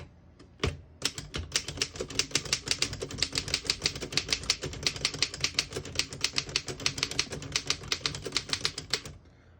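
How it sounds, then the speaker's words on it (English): Rapid clacking keystrokes of a 1914 Royal 10 antique desktop typewriter, loud and close, in a fast steady rhythm with no talking. "Sounds like an antique, beautiful antique typewriter."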